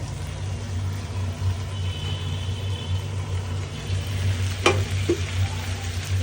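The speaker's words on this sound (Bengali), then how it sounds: "আমার চিকেনটা একটু নাড়া দিয়ে দিও" Chicken sizzles steadily in oil in a frying pan as it is stirred, a constant close hiss over a low hum, with a couple of sharp utensil scrapes near the end.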